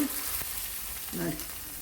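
Oggarane tempering sizzling in hot oil, a steady close hiss with a brief louder burst of crackle partway through, no voices.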